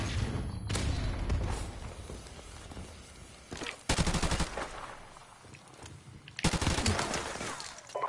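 Video game gunfire crackles in a few sharp bursts of automatic fire, with a fainter stretch of shooting between the louder volleys.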